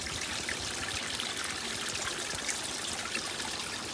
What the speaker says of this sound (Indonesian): Kita cuci dulu tangan kita.